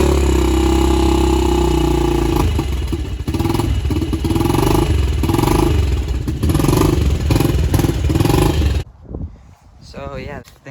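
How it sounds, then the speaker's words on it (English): A Yamaha TTR90 dirt bike engine idles after a valve job and a new gear, a loud, steady, throbbing putter with slight surges that cuts off abruptly near the end, leaving faint noise. "got the new gear in, and thing and bike actually runs now"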